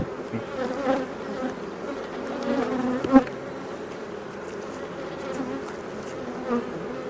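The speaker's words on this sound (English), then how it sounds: "There were a lot of bees on there." A dense, steady hum of many honeybees buzzing together around a WBC hive during inspection, close by, with a few louder individual buzzes passing near.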